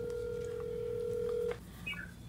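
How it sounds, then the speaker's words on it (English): Phone line tone while a number is dialed, a steady tone lasting about a second and a half, then faint beeps and a quieter line. "When I call this number, if this phone rings"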